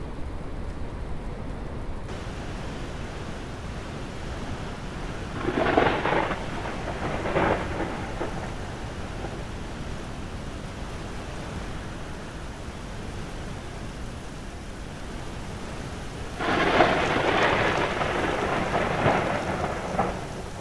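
Thunderstorm in the game Airport Renovator: steady rain hiss throughout, with two bursts of rumbling thunder, one early and a louder roll near the end, no voices.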